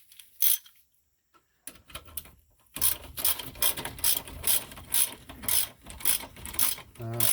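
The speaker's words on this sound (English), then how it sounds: "put a ratchet right on it" A hand ratchet clicks as bolts on a Subaru are loosened, with quick bursts of sharp, close ratcheting after a brief quiet start, the clicks repeating in steady strokes.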